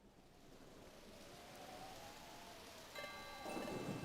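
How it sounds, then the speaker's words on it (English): Steady rain falls in the Pokémon Mystery Dungeon video game, a soft, even hiss of drops that stays continuous and fairly quiet, with a faint tonal game chime entering near the end. "It's the rain they talked to me about"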